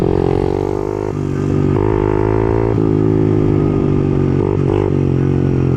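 A motorcycle engine during wheelie practice holds a loud, steady droning tone close by. Its pitch shifts and dips briefly a few times as the throttle changes, with no voices over it.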